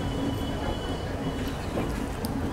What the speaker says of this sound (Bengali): ছেড়ে দিল আমাদের ট্রেন অমৃতসর স্টেশন থেকে